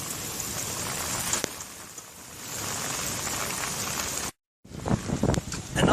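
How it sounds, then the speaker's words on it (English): Heavy rain pours onto permeable paver pavement in a steady, loud broadband hiss, with a brief gap of silence near the end before the downpour resumes. "It's really raining now and no flow from hydromedia."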